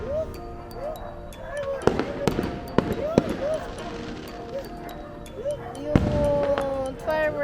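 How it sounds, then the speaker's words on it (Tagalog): Fireworks from the nightly display at Enchanted Kingdom in Santa Rosa pop and crackle in the distance, a string of sharp bursts with bright whistling tails, heard from a rooftop while people chatter nearby. "Yun, fireworks!"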